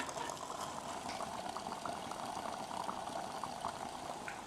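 Water bubbling in a pot set on a vigorously burning alcohol stove, a dense steady fizz of small bubbles and light crackle, continuous and fairly quiet, with no talking.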